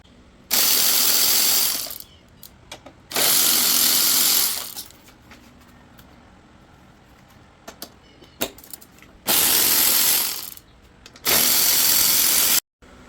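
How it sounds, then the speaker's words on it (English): 10mm and 13mm bolts coming off an RZ350 rear cowling with a ratchet, four loud, close bursts of rapid clicking separated by quieter pauses with small metallic taps. "To remove this rear cowling and grab bar, 10mm bolts up front, 13s in the back."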